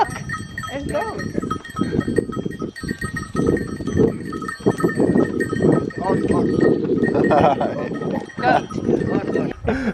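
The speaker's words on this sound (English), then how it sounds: "I definitely thought the sound of the bells from the goats was like an ice cream cart coming up here." A herd of goats at a Jaipur fort moves about with their bells tinkling and clanking continuously, close by, while people talk over the jingling.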